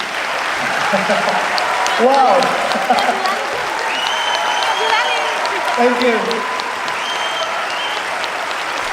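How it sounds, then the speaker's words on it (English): At the AdAsia 2017 conference in Bali, a large audience gives sustained applause for a speaker, a steady roar of clapping throughout while someone speaks briefly over it. "Please give applause."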